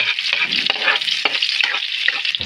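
Garlic and onion sautéing in a pan, a loud, close sizzle with scraping stirring strokes throughout a short stretch, with no one talking.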